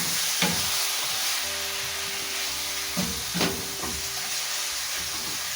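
Nile perch cooking in a creamy garlic ginger sauce, a steady soft sizzle and bubbling with a few scraping stirs and spoon knocks against the pan, close and moderately quiet.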